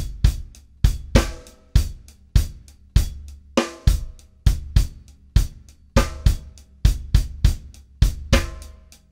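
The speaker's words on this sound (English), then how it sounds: "that's the kind of halftime version with the snare drum on beat three" Halftime drum groove with the snare landing on beat three, kick and cymbal strokes in a steady, spacious pattern, played close and clean with no voices.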